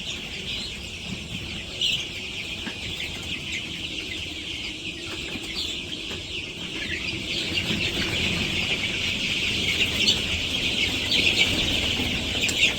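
Village chickens clucking at feeding time, a busy flock of small birds calling continuously and fairly close, with steady background noise and no talk.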